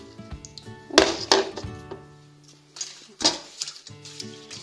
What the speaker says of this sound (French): je vais les mettre directement dans la casserole.